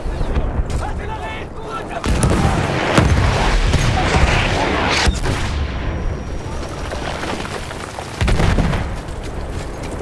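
Artillery strikes in the video game Battlefield 1 land as heavy booms and bursts over continuous battlefield noise, with strong impacts near the 2 and 8 second marks and sharp gunfire cracks scattered between.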